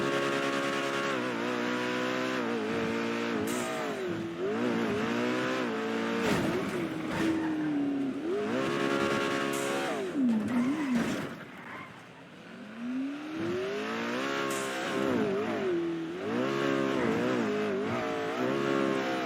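A car engine in a driving video game roars continuously, revving and shifting pitch up and down with loud sustained tone and occasional dips, heard alone without talk.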